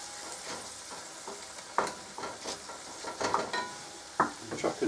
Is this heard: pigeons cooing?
no